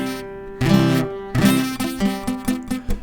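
Acoustic guitar chord strummed with the first string muted by a tilted fretting finger, a few close strums where one string thuds dull among ringing notes, then quick choppy strokes.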